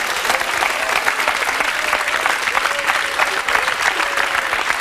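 A television studio audience claps in a steady, dense round of applause that stays loud and even throughout, with a few voices mixed in.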